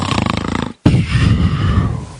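A voice imitates loud snoring: a rapid, rattling intake, a brief pause, then a long, throaty snorting exhale, close and forceful.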